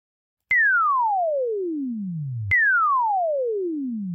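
Modular synth effect tone sweeping repeatedly downward, each falling glide restarting abruptly from high pitch every two seconds as a slow sawtooth LFO drives it, steady and loud with no voices.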